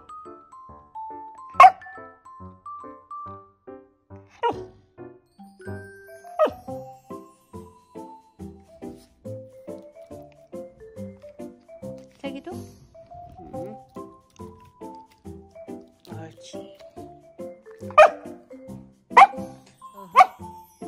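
A small dog barks repeatedly in short, sharp bursts at close range, with a few louder yaps standing out, while someone talks to it throughout.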